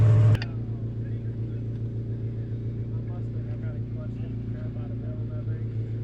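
An Audi four-cylinder drift car sends out a low, steady engine drone after a brief loud burst at the start, with a voice talking over it.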